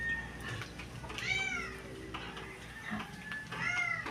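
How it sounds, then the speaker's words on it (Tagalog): A cat meows for food several times, rising and falling, fairly close, with quiet background clatter and faint voices. "Nahingi na uli ng pakain ng aming pusa. Naingaw na ulit."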